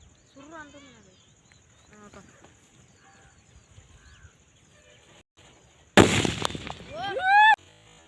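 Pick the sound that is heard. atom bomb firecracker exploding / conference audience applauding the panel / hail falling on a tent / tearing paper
atom bomb firecracker exploding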